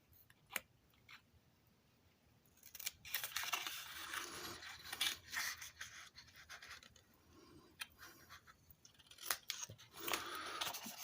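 Scissors cutting paper squares apart for a junior legal pad holder, a run of quiet close snips and scratchy slicing strokes that grow busier midway, with no talk.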